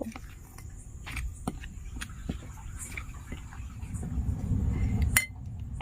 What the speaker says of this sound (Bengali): এবার একটি চামচ দিয়ে খুব সুন্দর করে আটাটাকে মেখে নেব